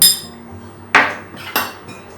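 A spoon clinks against a bowl while olive oil and salt are stirred together, a few sharp metallic taps standing out over quiet kitchen background.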